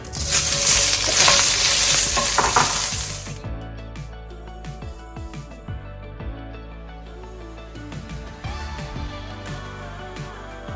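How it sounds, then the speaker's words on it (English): Peppers sautéing in a little oil in a wok over high heat, a loud roaring sizzle for the first few seconds that drops to a softer crackle with frequent metallic clinks and scrapes of tossing, close up, no talking. "With the wok on high heat again, just put in a tiny little bit more oil. And we're going to saute."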